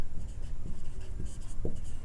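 Pen or marker scratching across paper or a board while a math solution is written out, a steady run of soft scraping strokes close by with no talk.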